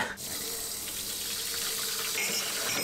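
Water runs steadily from a kitchen tap while dishes are being washed up after cooking, a continuous close hiss and splash with no talking.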